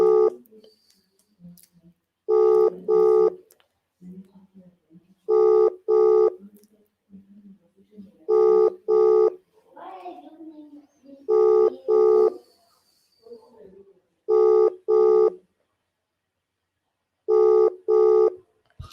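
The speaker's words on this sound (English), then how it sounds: "His phone is ringing." Phone ringback tone on an outgoing call, paired double rings repeating roughly every three seconds, loud and clear, with someone speaking quietly between rings.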